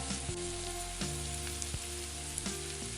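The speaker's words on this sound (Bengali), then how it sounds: "কুচনো পেঁয়াজটা দিয়ে দিলাম পেঁয়াজটা এইরকম একটু লাল লাল করে ভেজে নিতে হবে" Chopped onions frying in hot oil in a home kitchen while making a ridge gourd dish, a steady close sizzle with a few soft scrapes and knocks.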